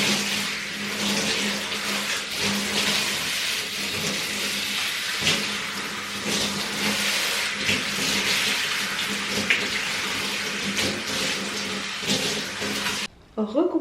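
Water runs steadily from a tap during rinsing, a continuous close hiss and splash lasting several seconds before cutting off abruptly near the end.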